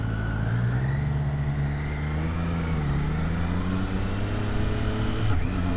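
A Triumph Street Triple RS motorcycle pulls away and shifts into second gear in New York City traffic. A steady, fairly loud engine note rises in pitch, with a brief dip near the end.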